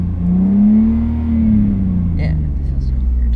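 Lexus IS300 engine revving while parked, a loud mid-low rumble whose pitch rises and falls over a few seconds, with speech-like sounds mixed in.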